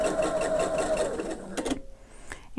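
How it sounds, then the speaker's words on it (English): A home sewing machine stitches a quarter-inch seam on quilt pieces with a steady, close mechanical whir, then stops, leaving a few small clicks and handling sounds. "sew that seam. And again, we're always using a quarter inch seam."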